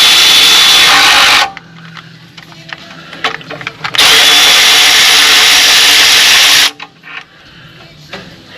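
A power tool takes bolts out of a 700R4 automatic transmission behind a Chevy 350 crate motor, while the mechanic lies under the vehicle. The tool runs in two long, loud, steady bursts, with quieter clinks and handling noises between them.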